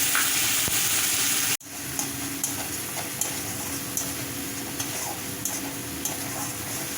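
A spice paste sizzles and fries in hot oil in a pan for a Bengali green coconut paneer dish, with a loud continuous hiss, a brief break, then steady sizzling and regular light scrapes from stirring.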